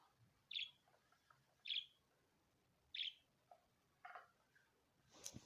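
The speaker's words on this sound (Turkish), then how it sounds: "cici kuş" A pet budgie gives sharp, bright chirps at regular intervals, about five calls with quiet pauses between, fairly close.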